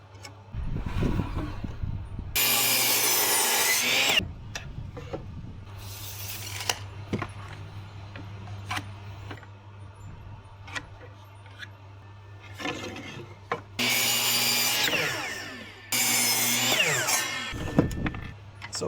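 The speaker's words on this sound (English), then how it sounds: "now that we got the lumber cut" Lumber is cut for a DIY grip rig in several bursts of loud, rough sawing, each lasting one to two seconds, with quieter knocks, handling clatter and scattered clicks between them.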